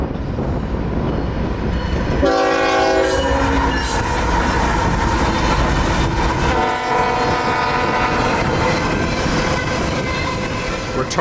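A CSX empty unit freight train led by SD70 locomotives rumbles past loudly, its horn blaring in long blasts, with steady rolling wheel noise and metallic clatter throughout.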